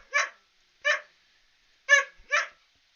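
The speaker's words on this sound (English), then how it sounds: "I also have my dog who loves taking me attention" A dog gives four sharp, separate barks, two spaced apart and then a quicker pair, close by against an otherwise quiet background.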